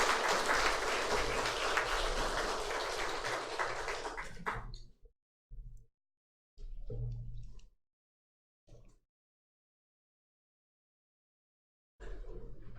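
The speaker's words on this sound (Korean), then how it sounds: "우리 성가대를 위해서 오늘 격려의 박수 할까요?" A church congregation gives warm applause for the choir, a full wash of clapping for about five seconds that cuts off abruptly, followed by brief scattered sounds and silence.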